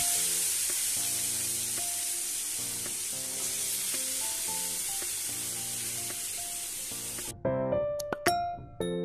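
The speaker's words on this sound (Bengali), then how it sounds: "একটু জিরে ফোড়ন দিলাম, দিয়ে এই পটল আলুগুলো একটু ভেজে নেবো ভালো করে" Pointed gourd and potato pieces fry with cumin tempering in hot oil, a loud steady sizzle over music that cuts out near the end, leaving sharp clinks of a utensil against the pan.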